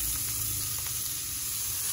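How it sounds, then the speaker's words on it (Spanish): Ground meat sizzles steadily in a little hot oil in a pan, a continuous close frying crackle and hiss with no talk. "vamos a agregar la carne ya en un toquecito de aceite"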